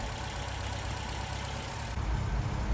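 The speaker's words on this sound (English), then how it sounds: "I set the idle speed at around 1100 RPM for now" A restored Mercedes 190SL engine idling at about 1100 RPM, a steady, low, even rumble close by that grows slightly heavier near the end, with no talking.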